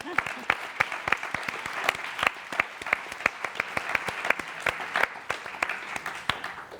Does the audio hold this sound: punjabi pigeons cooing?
no